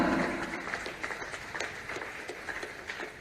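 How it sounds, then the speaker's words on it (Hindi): Applause at a road construction foundation-stone ceremony, a steady patter of many hands clapping at a moderate distance, continuing evenly throughout. "तालियां हो आपकी तरफ से जोरदार"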